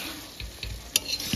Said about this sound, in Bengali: আমি আমার হেল্পিং হ্যান্ডকে এখন মাংসটা একটু নাড়ানোর জন্য দিয়েছি